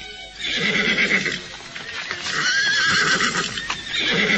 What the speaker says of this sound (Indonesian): melihat seekor kuda telah diikat di bawah pohon cemara